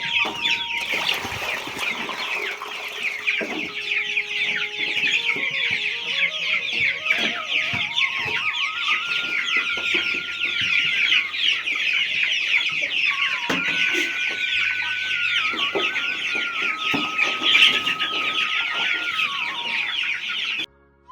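Young chicks kept in a room on a hillside home clucking and peeping continuously, a dense, loud, close chorus with no voices.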